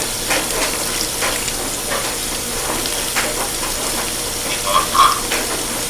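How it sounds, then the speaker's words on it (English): Hot water gushes steadily into a washing machine during a wash cycle, a continuous rushing hiss with a brief louder splash near the end. "And hot water is being added."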